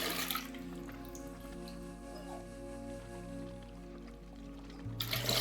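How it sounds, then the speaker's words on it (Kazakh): Fresh lemon juice pours steadily into a deep bowl, a faint continuous liquid trickle under a constant tonal background hum. "Міне осы шыққан шырынды шұңғыл ыдысқа құйып,"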